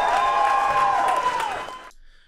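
A stock crowd-cheering sound effect built into Mac computers plays loud and close, a blend of cheers, whoops and applause that rises and then fades abruptly to near silence after about two seconds.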